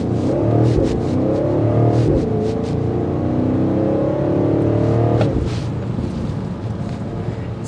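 A 2024 BMW X5 M60i engine revs up hard under acceleration, rising pitch sweeping upward through several gear changes, loud and close with some wind rush, no talking.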